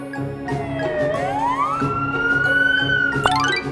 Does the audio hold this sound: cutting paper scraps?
no